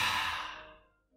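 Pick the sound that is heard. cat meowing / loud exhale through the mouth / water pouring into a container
loud exhale through the mouth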